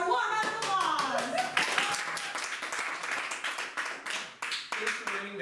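An improv comedy audience gives a round of applause with dense, sustained clapping, while voices and laughter rise and fall over it.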